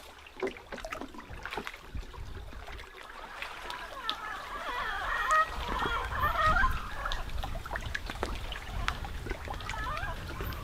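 Costa Rican jungle birds call loudly in the evening, a dense chorus of honking, chattering cries overlapping continuously, with trickling water and faint background noise beneath.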